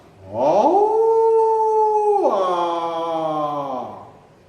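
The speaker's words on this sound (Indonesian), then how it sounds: "Itu suara serigala." A wolf howls in one long, loud, close wailing call, rising at the start, holding steady, then shifting pitch and fading out.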